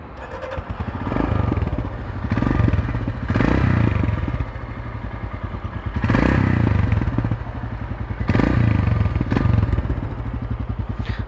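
A Royal Enfield Himalayan motorcycle with its stock exhaust idles close by, a steady low thumping beat that swells and eases in loose surges every couple of seconds, with no voices over it.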